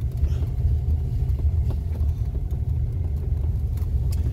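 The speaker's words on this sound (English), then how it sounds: "a concrete truck on our little road, didn't get stuck" A concrete truck climbs a small hilly road, its heavy engine producing a steady, rumbling low drone with slight revving, fairly close and continuous.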